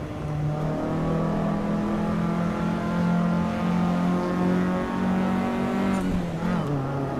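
A steady, droning car engine from the racing game Assetto Corsa EVO holds a high revving pitch, then drops briefly near the end.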